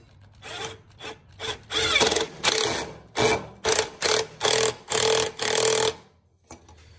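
An 8 mm socket wrench ratcheting down a hose clamp on an intercooler pipe of a Fiat 500 Abarth, giving a series of close, loud ratchet strokes in short rhythmic bursts, no voices.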